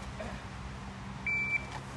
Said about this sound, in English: I'll say yes, stand by, timer's going to go off.